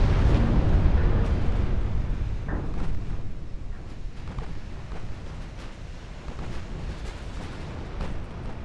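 Heavy rumbling blasts and roaring from two enemy battleships being destroyed in the naval game Ultimate Admiral Dreadnoughts, a loud, continuous wall of low booming noise with scattered sharper cracks.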